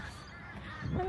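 Crows cawing in Australia, a faint, brief harsh call emerging at the very end of a quiet second of background noise.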